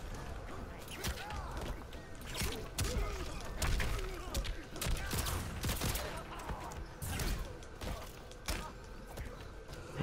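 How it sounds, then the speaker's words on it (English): Cannon fire in the fighting game Mortal Kombat 11, heavy booming blasts and impacts among dense, loud combat effects, with a voice talking over the action. "Cannon shot."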